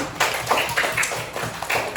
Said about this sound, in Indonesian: terima kasih, tepuk tangan untuk kita semua dulu